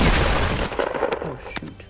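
Pump shotgun fire in the Fortnite video game: a cluster of sharp, loud blasts early on, followed by a few scattered fainter shots and impacts over about two seconds.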